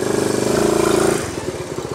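A small 53-year-old Honda Trail 90 motorcycle engine strains at high revs climbing a hill in third gear, then drops into a lower, chugging throb as it keeps pulling.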